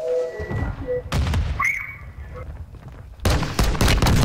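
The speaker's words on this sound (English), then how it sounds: "Throwing grenade!" A grenade blast and gunfire in the Call of Duty Warzone shooter, with booming bursts at the start and a heavy burst of shots near the end, under a busy game mix with brief voices.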